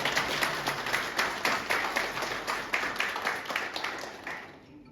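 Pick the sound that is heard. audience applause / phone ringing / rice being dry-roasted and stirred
audience applause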